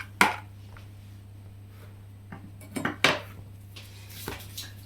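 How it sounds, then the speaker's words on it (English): Metal cutlery clinks and rattles in a few sharp, close bursts as a tablespoon is picked out of a home kitchen drawer during a rhubarb and strawberry crumble bake. "I'm just going to grab myself a spoon."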